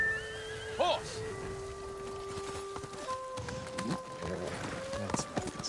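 A horse in Ghost of Tsushima whinnies loudly, then its hooves clip-clop along over a steady musical backdrop, with voices speaking.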